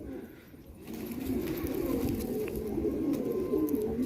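Multani pigeons cooing in a low, continuous murmur, several birds overlapping in a steady soft chorus that swells slightly after the first second.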